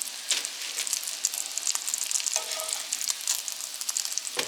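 Gluten-free lump crab meat crab cakes frying in a pan, a steady close sizzle with crackling pops and a brief clatter near the end.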